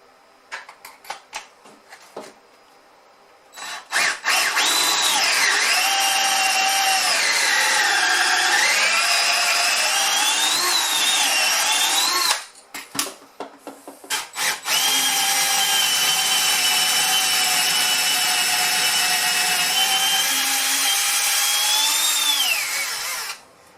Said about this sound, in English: Let's start drilling some holes.